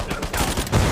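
Gunfire in the video game Uncharted 4: A Thief's End, a brief burst of several rapid shots crackling loudly in under a second, with no speech over it.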